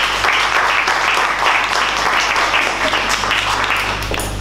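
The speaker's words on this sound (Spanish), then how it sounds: "Con fuerte aplauso para ustedes" An audience at a cultural association event applauds to welcome Isabel Oviedo, a dense, loud and sustained burst of clapping from many hands, close and continuous throughout.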